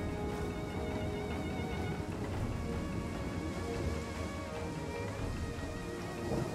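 Rain during a storm in the strategy game Total War: Three Kingdoms, a faint, even patter and hiss that keeps going throughout, with occasional gentle swells and no one speaking.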